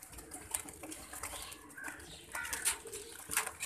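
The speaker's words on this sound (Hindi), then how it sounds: "ये कबूतर टकरे मार रहा है" Pigeons wearing green leg rings coo and shuffle near a tree, with soft wing flutters and low cooing mixed with steady outdoor background noise throughout.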